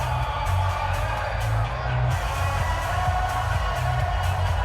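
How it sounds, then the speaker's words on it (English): Stadium crowd noise from a Madden NFL 20 football game, a steady loud roar with swelling cheers and whoops as a big third down approaches, continuous throughout. "The crowd getting into it as we come up on a big 3rd down"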